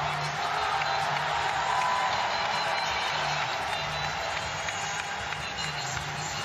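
Weightlifting arena crowd at the Commonwealth Games roaring steadily, a dense wash of cheering, whoops and applause sustained throughout as a lifter loads a heavy second attempt in the men's 96 kg event.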